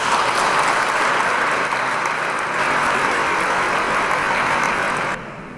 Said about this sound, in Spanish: Pues le vamos a recibir con un fuerte aplauso